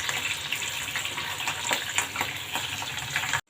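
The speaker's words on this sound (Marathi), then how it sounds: "याबरोबरच आपण मिरच्या पण तळून घेऊया." Slit green chillies fry in hot oil beside moong dal bhaji, giving a loud, continuous bubbling hiss with small crackles, close up, until it cuts off abruptly at the end.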